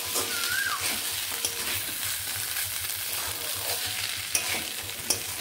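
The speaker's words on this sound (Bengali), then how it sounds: "বেশ ভালোভাবে এবার সবগুলোকে এইভাবে কষিয়ে নিচ্ছি।" Chickpea curry masala is sautéed and stirred in a pan, a steady sizzle with scraping spatula strokes throughout and a couple of sharp clinks near the end.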